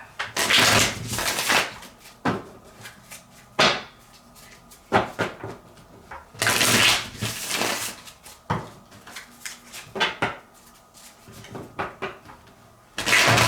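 A deck of tarot cards is shuffled close up in several riffling bursts separated by pauses, with soft taps and handling noises between them and no talking.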